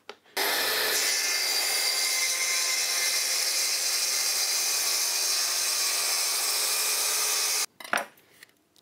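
A power saw rips through plywood in one steady, loud cut lasting about seven seconds, then stops abruptly, followed by a brief clatter and a little handling noise.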